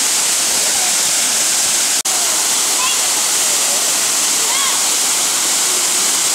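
A tall waterfall roars in a loud, steady broadband rush that fills the scene, with faint voices barely audible beneath it.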